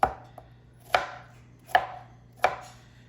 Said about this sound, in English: chop it up into little bits.